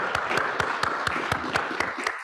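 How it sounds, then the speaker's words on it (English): Applause from a research symposium audience, a few distinct hand claps standing out over a thin, steady patter, fairly close and moderate in volume, with no talk over it. "please give a big applause to my student there"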